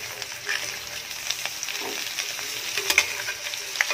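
Crabs sautéing in a pan for ginataang alimasag, a steady moderate sizzle with occasional scrapes and small knocks of the spoon as they are moved around.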